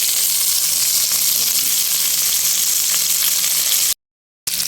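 Onions for pork steak sizzle in a hot pan with a steady, loud, hissing fry that runs unbroken before cutting out to silence for a moment near the end.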